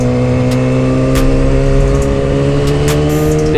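A motorbike engine holds a steady, loud, high rev during a wheelie, its tone constant and close with a few brief sharper bursts on top.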